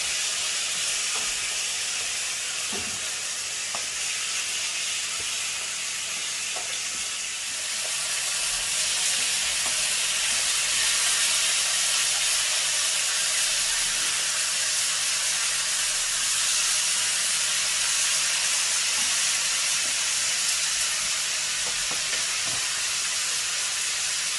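Salmon fillet sizzling skin-side down in a hot pan, a steady loud hiss and crackle running unbroken throughout with occasional pops.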